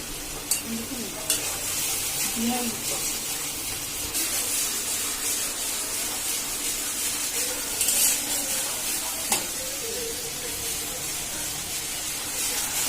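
Spice paste with turmeric and chilli powder frying in oil in a pan, a continuous close sizzle with intermittent stirring scrapes and utensil knocks.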